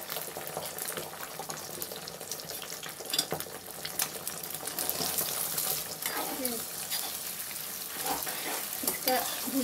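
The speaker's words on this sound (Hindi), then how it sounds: "तेल गरम हो गई है। अंडा डाल रही हूँ टूटा हुआ।" A broken egg sizzles and fries in hot oil in a pan, a steady close crackling hiss with stirring scrapes throughout.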